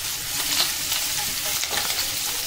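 Garlic sizzles in hot oil in a frying pan while being stirred, a steady close crackle with soft scraping strokes of a spoon throughout.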